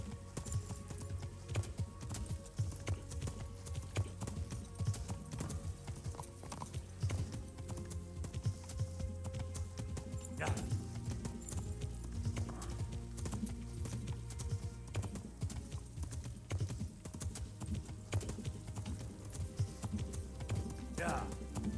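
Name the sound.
horse riding hooves in video game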